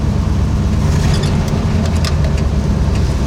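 A 1965 Ford Mustang barn find that sat for 13 years runs with a steady, loud engine rumble as it reverses across a field, holding an even drone throughout.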